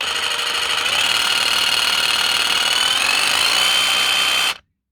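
A cordless power tool runs steadily at a fixed set speed, a loud, even high-pitched whine held close for several seconds before cutting off abruptly.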